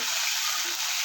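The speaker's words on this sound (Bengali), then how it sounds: "দিয়ে মশলাটা ভালোভাবে ভাজা করে নেব।" Ginger-garlic spice paste fries in a pan with a steady, loud, hissing sizzle that holds evenly for about a second, with no voices.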